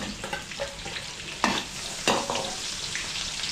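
Garlic and onion sautéing in a large pan for a big batch of chicken adobo, a close crackling sizzle with stirring scrapes and a couple of sharp utensil knocks, no talk.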